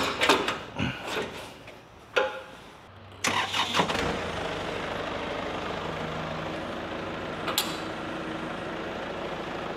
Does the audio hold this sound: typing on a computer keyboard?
no